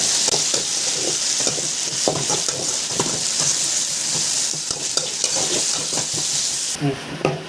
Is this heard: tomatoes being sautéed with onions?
yes